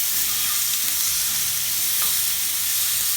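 Pork chops sizzle on a hot grill with a loud, dense, continuous hiss and crackle that holds steady throughout, with no voices.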